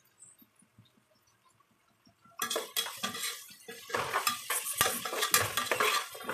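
Onions sauté in a pan with a sizzle as a spoon stirs and scrapes against the metal, producing loud, busy clatter after a quiet start of faint tapping.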